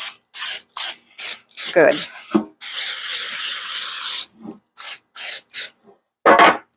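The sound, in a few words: olive oil cooking spray sprayed into baking dish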